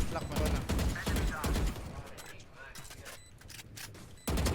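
Gunfire in the tactical shooter Valorant: quick bursts of shots up front, then a lull of softer game noise before another sharp burst, all fairly quiet in the mix.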